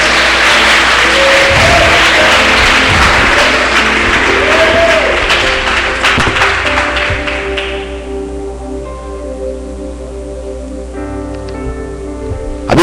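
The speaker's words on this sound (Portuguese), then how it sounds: "Pode aplaudir mais forte a ele." Audience applause at an evangelical church revival gathering, loud and dense at first, then thinning out into scattered claps over a background of voices and a sustained musical tone.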